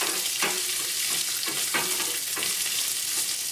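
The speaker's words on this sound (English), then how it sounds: "add in our mustard seeds and cumin seeds, chana dal, green chilies, ginger" Mustard seeds, cumin seeds, chana dal, green chilies and ginger frying in hot oil for curd rice, a steady close sizzle broken by a few stirring scrapes, with no voices.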